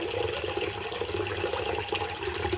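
Water is poured onto washed chana dal in a bowl, a steady splashing pour that goes on for the whole moment, fairly close, with no talking over it.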